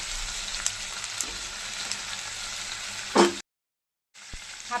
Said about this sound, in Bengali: হাফ চামচ আদা বাটা দিয়ে দিচ্ছি। আদাটা একটু নাড়িয়ে নিচ্ছি